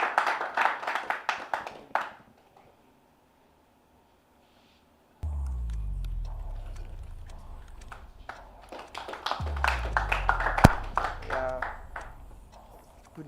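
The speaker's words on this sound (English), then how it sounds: "A round of applause for him, please." Scattered clapping from an audience welcoming a speaker at a hackathon event, a short burst, then a silent gap, then clapping again with a low thump and some voices mixed in.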